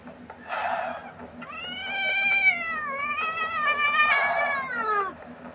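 A house cat meows close by in a long, drawn-out, wavering caterwaul, several plaintive cries in a row against a quiet indoor background.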